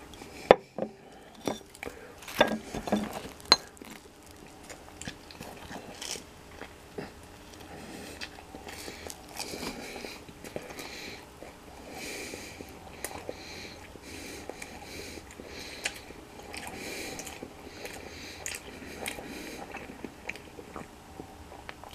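Close chewing and biting on a Bob Evans sausage, egg and cheese English muffin topped with Dirty Dicks hot sauce, with sharp bites early on, then steady soft mastication and mouth sounds, no talking.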